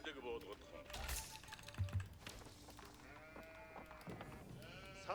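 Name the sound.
sheep bleating in video game Age of Empires 4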